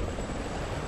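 A helicopter in a video game whirs with a faint, steady rotor drone for under a second, distant and unaccompanied.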